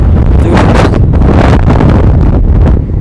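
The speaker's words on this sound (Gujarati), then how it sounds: "પવન બહુ છે અવાજ કદાચ ઓછો આવતો હોય છે" Loud, gusty wind buffets the microphone, roaring and rumbling continuously in heavy waves with no other sound coming through.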